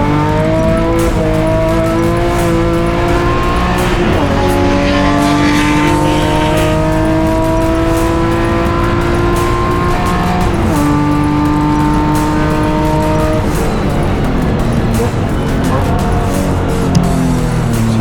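Race cars in the BMW M-Performance Parts Race Series roar past with loud, continuous engine noise, revving up and down through gear shifts with rising and falling pitch.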